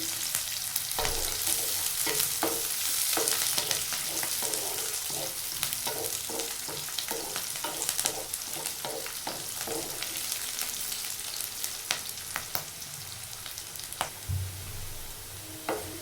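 Okra (bendakaya) fry with green chilies stirred in a pan over a flame: steady close sizzling with repeated scraping spoon strokes against the pan, no talking.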